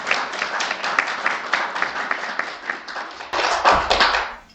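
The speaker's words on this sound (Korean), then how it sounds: "우리 김길구 부산광역시 청소년 단체 협의회장님 뜨거운 박수로 맞이해주시기 바랍니다" A hall audience at a Busan youth policy seminar claps warmly to welcome the chairman of the Busan youth organizations council: dense, steady applause throughout, surging briefly louder near the end before trailing off.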